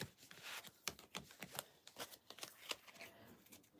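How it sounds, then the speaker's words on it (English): A deck of tarot cards shuffled by hand, giving a run of soft, irregular riffling and slapping bursts that stay close and fairly quiet, with no talking. "I'm gonna load these cards up right now. Give them a good shuffle."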